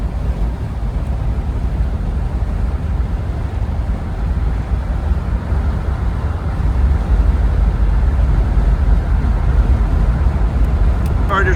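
A 1978 Chevrolet Corvette Indy 500 Pace Car with 5,000 original miles cruises steadily, its engine a continuous low rumble with road and wind noise heard from inside the cabin.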